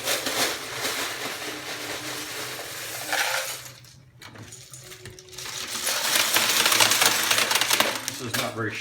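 Loose LEGO pieces shaken through a homemade cardboard sorting box with hand-cut holes make a loud, dense plastic rattle, pausing briefly midway, then surging again even more heavily.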